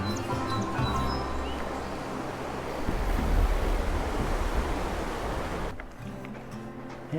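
Mammoth Creek rushes beneath a footbridge in the Mammoth Lakes area, a steady broadband wash of flowing water close by that swells midway, with wind buffeting the microphone and no voices.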